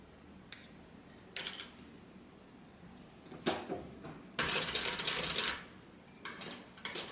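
Sewing machine stitching an AllyBee drawstring bag, topstitching over a line in short separate bursts, with a longer steady run of stitching near the middle, close and clear with no talking.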